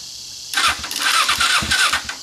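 A Kawasaki EX250 motorcycle engine, its carburetors freshly cleaned, cranks and catches, then runs close by with a rough, uneven throb for a couple of seconds.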